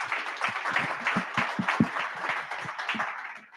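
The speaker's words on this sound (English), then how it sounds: "So if you can please give everyone a round of applause." A modest symposium audience gives a round of applause, individual claps clearly distinct in a moderately sized room, steady for a few seconds before fading out at the end.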